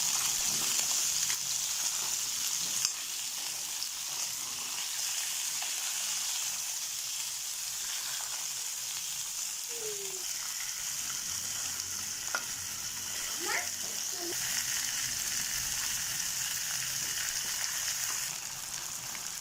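Pieces of fish shallow-frying in oil in a pan, a steady hiss and sizzle throughout with a few faint utensil touches, close and continuous, no voices.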